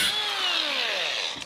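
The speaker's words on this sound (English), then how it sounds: "Why would I do anything other than grind it?" A power grinder whines during a door-hanging job, its pitch sliding steadily downward as it spins down over about a second, loud and close.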